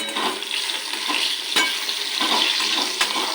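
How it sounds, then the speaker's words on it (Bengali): Cut potatoes fry in hot oil with bay leaf and dried red chilli while being stirred in a pan. A steady sizzle runs throughout, broken by a few sharp scraping clicks of the spoon, with no talking. "আলুটা ভাজা ভাজা হয়ে গেলে তারপরে মশলাটা দেবো আলুটা ভাজা হয়ে গেছে"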